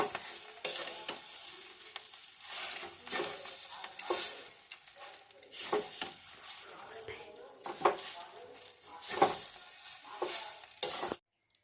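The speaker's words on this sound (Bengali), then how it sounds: "এবার আমি বাদাম দিয়ে দিচ্ছি" Peanuts tossed into semolina upma frying in a pan, with steady sizzling and repeated scraping, clattering stirs of a spoon against the pan, close and fairly quiet throughout.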